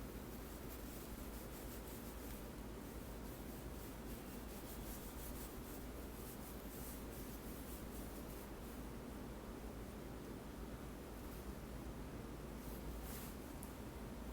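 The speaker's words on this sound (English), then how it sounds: "now I'm just going to dust away all the excess powder lying on my face, and for that I'm using a fluffy brush" A fluffy makeup brush sweeps excess powder off a face in soft, continuous rubbing strokes, heard very close but faint, with no talking.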